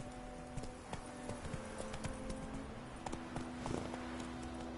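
Roach, the horse in The Witcher video game, walking along with an irregular but steady clip-clop of hooves, fairly quiet and close, with no voices over it.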